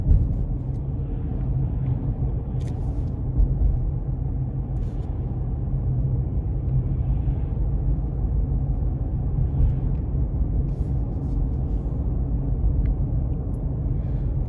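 A 2020 GMC Canyon SLE two-wheel-drive pickup with a 3.6-liter V6 driving, a steady low cabin rumble of engine and road noise that stays even throughout, with no voices.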